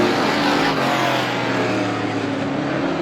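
Race car engines drone loudly and steadily at Star Speedway during an outlaw event, a sustained close roar with a strong low harmonic hum and no speech over it.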